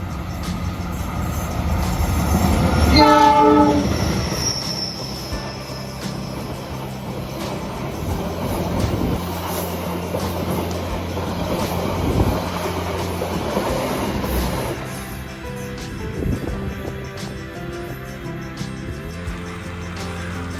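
The Argo Wilis train rumbles past during a crossing at a station, heard from inside another waiting train: a loud pass-by peaking early with a brief high squeal, then a long steady roll with rhythmic clacking that fades toward the end.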